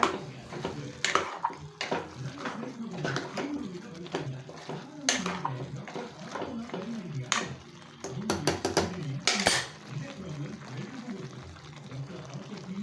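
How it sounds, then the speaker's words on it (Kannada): Water splashes and pours into a pan of ridge gourd and potato amid clinking cookware and stirring, while a person talks intermittently over the kitchen clatter. "ಎಲ್ಲ ಮಿಕ್ಸ್ ಮಾಡಿದ್ದೀನಿ ಸ್ವಲ್ಪ ನೀರು ಹಾಕೋಣ ಜಾಸ್ತಿ ಬೇಡ"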